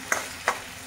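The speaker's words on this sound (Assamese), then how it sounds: "এতিয়া এইখিনি খুব ভালকৈ লৰাই ভাজিব লাগিব।" Boiled fish roe stir-fried in a pan, with a soft frying sizzle and two quick scraping stirs of a spatula close by.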